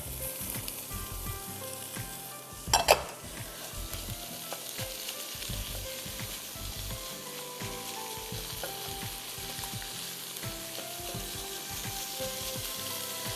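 Lentils and potatoes sauté in a pan with a steady, close sizzle and stirring scrapes throughout, plus one brief loud clatter early on.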